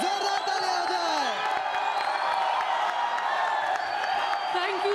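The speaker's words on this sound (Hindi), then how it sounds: "सोना कीर्ति और शाज़नीन के लिए जोरदार ताली हो जाए" A television talent show audience at X Factor India claps and cheers loudly for a performance, with whoops and shouting voices over continuous applause throughout.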